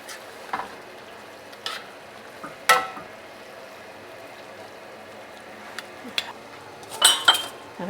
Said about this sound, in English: Stir it one more time.